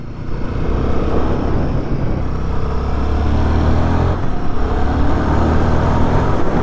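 A 2025 Royal Enfield Guerrilla 450 motorcycle engine runs steadily in the mid-rev range while riding, a loud continuous droning thrum with slight rises and dips in pitch and wind rush, no talk.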